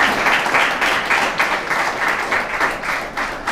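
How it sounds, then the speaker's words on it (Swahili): An audience bursts into applause after an emotional speech, a dense, even wash of many hands clapping close and loud for several seconds with no talking over it. "Naomba tuongeze makofi jamani."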